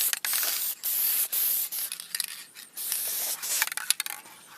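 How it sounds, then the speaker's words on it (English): Aerosol trim dye paint spraying onto car interior trim in several hissing bursts, some long and steady, others short and sputtering, close by with no talking. "We're just going to go through and spray."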